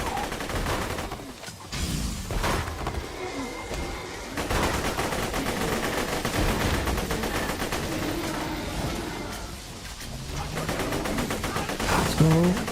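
Video game gunfire rattles almost nonstop in dense, rapid bursts, loud and close, with brief lulls between volleys.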